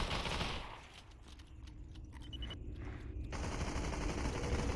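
Automatic gunfire in the VR shooter Population: ONE during a competitive match, with fast bursts crackling over a steady background wash. The shots are loud at first, ease off briefly, then return in sustained volleys.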